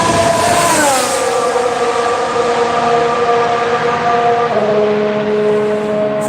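A Ferrari Formula 1 car at preseason testing screams past with a loud, high-pitched engine whine that drops sharply in pitch as it goes by, then holds a steady, slightly falling tone for several seconds with no talking.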